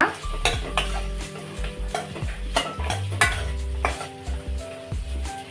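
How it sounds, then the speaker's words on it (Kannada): A spoon scrapes and clanks against a pan while egg manchurian is tossed with soy sauce, repeated stirring knocks over a faint sizzle, close and fairly loud with no talking. "ಚೆನ್ನಾಗಿ ಕಲಿಸ್ಕೊಳ್ಳಿ ಈ ಥರ."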